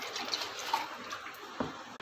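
Cold water from a chilled bottle pours into a glass with a soft, steady trickle up close, quiet and continuous for about two seconds before cutting off.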